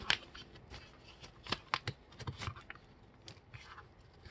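Sheet of paper being creased and folded into a paper airplane wing, a series of soft crisp rustles and sharp creasing scrapes close by, bunched around the middle with quieter handling before and after.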